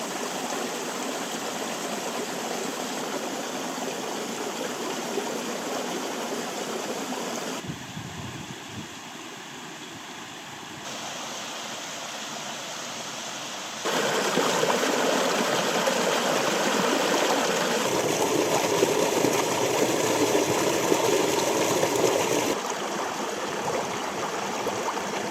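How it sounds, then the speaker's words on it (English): A stream flows downhill on a mountain track in Donegal, a steady close rush of water that swells louder partway through, with a faint wind-like hiss, alone and with no voices. "it's nice to have the sound of the water and to follow this down"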